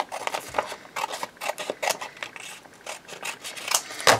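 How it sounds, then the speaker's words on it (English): Old scissors snip through glued paper for a junk journal belly band, a rapid run of close, crisp cuts and rustles with a sharper snap at the end. "I'm going to use these old scissors because I don't want my new ones getting all sticky."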